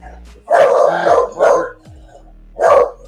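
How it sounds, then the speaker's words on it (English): A dog barks three times, loud and close, in two quick bursts followed by a single bark after a short pause, with faint growly tails between. "All right, Booker the dog"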